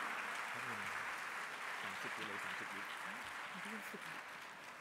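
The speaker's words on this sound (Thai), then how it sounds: "ขอเสียงปรบมือต้อนรับโรงเรียนกลับใหญ่ว่องกุศลกิจวิทยาคมจังหวัดราชบุรีค่ะ" Audience applause welcoming a school band at a Thai band championship in Ratchaburi, a steady wash of clapping filling the hall throughout with faint voices underneath.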